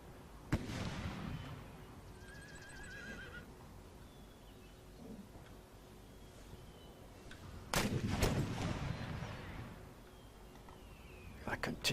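Artillery booms out in the video game Empire: Total War, with several heavy blasts and crackling rolls spread across a battle din, fairly faint, alongside a horse whinny and bursts of distant gunfire.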